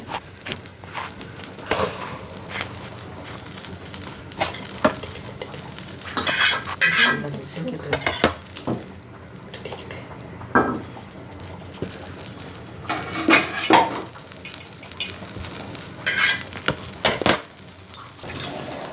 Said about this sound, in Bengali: ফ্রাই প্যানটা দিলাম, পাতাগুলো ভাজবো।